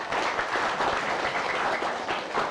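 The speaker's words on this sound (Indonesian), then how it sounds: "tepuk tangan dulu untuk Dona." Students at a school Ramadan program clap together for a classmate, a short, steady burst of group applause in a room with no talk over it.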